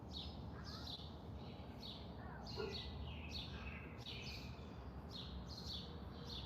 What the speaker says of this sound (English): the birds are crazy out here today